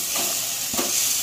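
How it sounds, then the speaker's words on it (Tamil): Chopped ginger stirred and sautéed in a pan while cooking a karpooravalli thuvaiyal, a soft continuous frying hiss with a brief stirring scrape near the middle, steady and close. "இதை போட்டு நல்லா வதக்கிக்கணும்."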